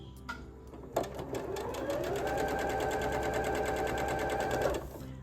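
A sewing machine stitches flying geese quilt units, starting with a few short taps and then running in a steady, fast, even whir for about four seconds before stopping, close and moderately loud.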